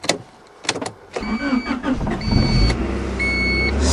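A 1991 Honda Accord starting in winter after sitting for seven and a half months: a few clicks and cranking, then the engine catches and settles into a steady, loud idle close by, with no talking.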